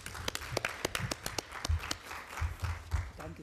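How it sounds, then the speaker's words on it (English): A round of applause for panelists at a high-level parliamentary meeting on HIV/AIDS, scattered individual claps from a modest audience, sharp and separate rather than a dense wash, fairly faint in a large room. "May I invite you to give a round of applause to these gracious panelists."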